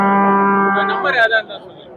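Cattle at Kundarapalli cattle market, where HF and Jersey cows are sold, give a long, loud, drawn-out moo. It is close and clear, ending in a short rising bleat-like call.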